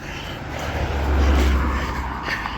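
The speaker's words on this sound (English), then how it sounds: "Here comes the car." A car passes close by a marathon runner on an uphill road during the Chelmsford Marathon, its engine and tyre roar rising to a loud peak in the middle and fading, with no talking.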